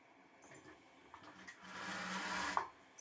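A sewing machine stitches the neckline of a blouse front piece, a steady close whirring run that swells through the middle and stops abruptly near the end, with no talk.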